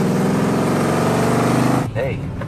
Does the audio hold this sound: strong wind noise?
no